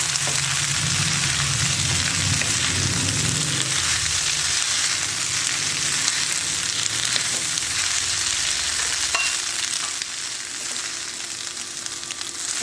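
Steady, loud sizzling of chicken fried rice frying in a hot pan, with scraping and tossing noises mixed in through the first few seconds.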